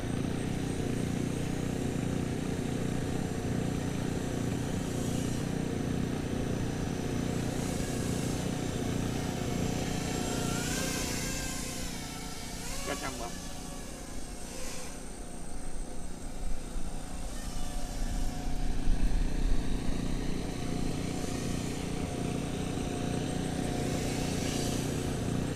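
A radio-controlled model airplane drones steadily as it comes in to land at a flying field, its engine noise swelling and growing louder toward the end.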